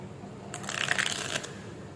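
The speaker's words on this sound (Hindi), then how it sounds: "कार्ड्स को कर लेते हैं शफल, देन देखते हैं कि क्या रीडिंग निकल के आती है।" Tarot cards shuffled by hand, a quick close riffle of about a second rising out of quiet room tone.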